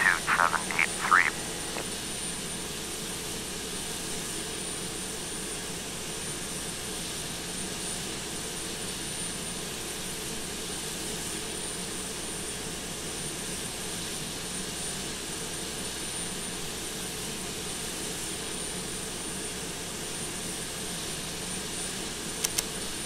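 Rolls-Royce jet engines of a Boeing 757-200 in a flight simulator game at Copenhagen Airport, a steady, moderately loud broadband whine and rumble that holds constant throughout, with a brief click at the start.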